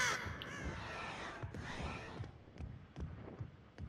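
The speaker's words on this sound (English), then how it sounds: "There's crows right up here." Crows cawing in the horror video game Dead by Daylight, a few harsh caws near the start amid flapping and dull thumping footsteps in the background, no speech.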